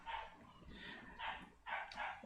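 A dog barks several times at a distance, faint and muffled, with short gaps between barks.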